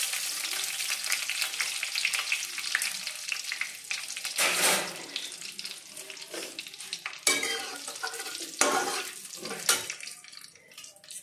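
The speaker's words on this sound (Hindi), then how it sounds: "सूखी मिर्च डालने जा रही हूँ," Dried red chilies crackle and sizzle as they hit hot oil in a home kitchen pan, with a steady frying hiss, sharp bursts of spattering and stirring scrapes close up, and no talking.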